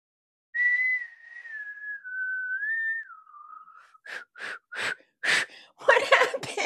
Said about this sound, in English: Well, I really wish I could whistle.